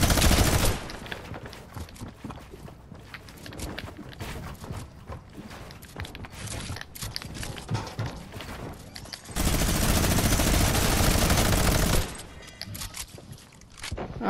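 Video game gunfire crackles in rapid bursts throughout. There is a denser, louder stretch of sustained firing near the end, with busy game noise underneath.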